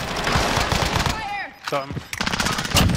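Loud, rapid video game gunfire in Call of Duty Warzone crackles in quick bursts around a short pause, with a player speaking briefly over the shots.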